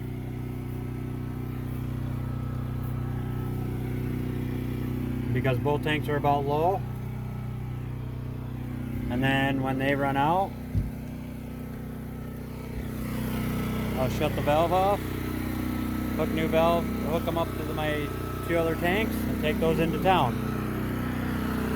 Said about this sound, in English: We're still running off the gen set.